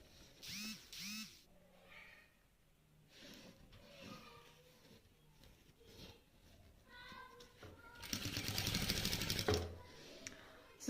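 A sewing machine stitches felt with pink thread, a steady mechanical whirring burst that rises near the end after quieter handling noises and brief vocal sounds.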